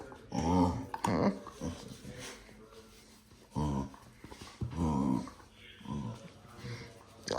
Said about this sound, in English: Mike, why is your dog talking to you like this?